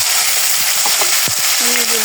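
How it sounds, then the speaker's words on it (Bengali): Cumin and coriander seeds tempering in hot oil in a wok give a loud, steady sizzle throughout, with a few brief scraping stirs and a short tonal clink near the end. "কড়াইতে তেল দিয়েছি, এখন জিরা দিয়ে দিলাম"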